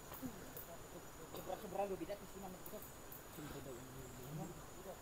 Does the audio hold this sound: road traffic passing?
no